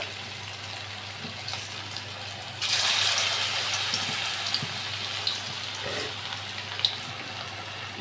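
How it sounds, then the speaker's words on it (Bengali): Soybean pakora dropped into hot oil on a low-to-medium gas flame, a sudden rush of sizzling followed by a steady crackling fry with scattered pops, close and moderately loud. "এইভাবে আমি তেলে ছাড়ছি পকোড়াটা"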